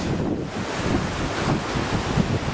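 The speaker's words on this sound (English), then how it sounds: "The flowing water, the wind, all these make us close to nature." Water flows outdoors in the California canyon country of Kings Canyon and Sequoia National Park, a steady full rush mixed with gusting wind buffeting the microphone, continuous and fairly loud, with no voices.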